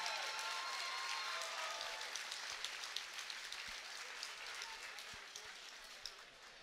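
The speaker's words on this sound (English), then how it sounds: "How about a round of applause for these two great fighters" A crowd at a combat sports event claps for two fighters after the bout, a broad, steady wash of applause that slowly fades, with scattered louder claps near the front.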